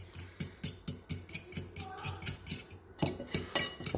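Grated cheese being mixed into eggs for carbonara, a whisk or fork clinking against the bowl in a steady, rapid rhythm of repeated taps, close and fairly quiet, with no talking.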